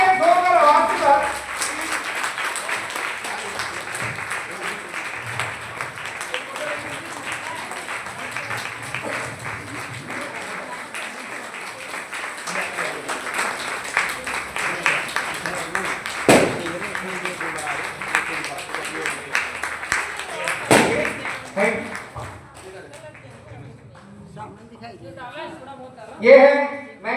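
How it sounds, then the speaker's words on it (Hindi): Loud applause from an audience at an indoor gathering, a long sustained clatter of many hands that swells and thins, with a voice speaking over it and a few sharp knocks near the end. "तालियां जोरदार आवाज के साथ।"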